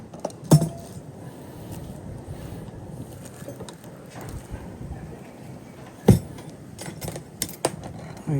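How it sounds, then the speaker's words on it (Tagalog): Keys jangling close by during a typhoon with flooding outside, a couple of sharp metallic rattles standing out against steady wind noise, with lighter clinks toward the end. "Ay, susi pala."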